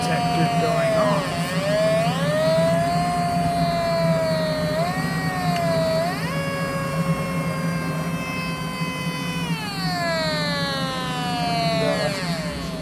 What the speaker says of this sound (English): you can hear my gas detector going off.